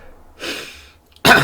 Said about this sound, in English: I just coughed out a sneeze.